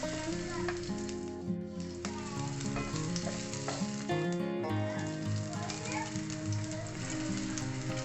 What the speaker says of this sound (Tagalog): maglagay tayo ng mantika sa mainit na kawali. Igisa natin ang bawang